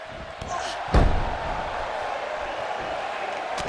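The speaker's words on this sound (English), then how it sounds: "And she slams her back down." In the WWE 2K18 video game, a wrestler slams an opponent down in an Extreme Rules match, one heavy thud over a crowd murmur, with commentary running underneath.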